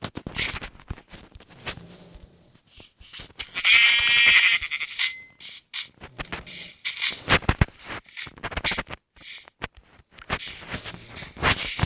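Repeated sheep bleats in Minecraft, short and loud, recurring across the clip over busy game sound effects.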